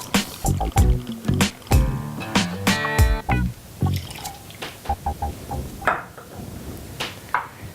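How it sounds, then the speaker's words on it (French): Pisco pours into a cocktail glass or shaker, with clinking glass, sloshing liquid and sharp knocks from bottles and tools close by, several quick hits before a steadier trickle toward the end. "Ensuite, on va mettre donc 4 centilitres de pisco"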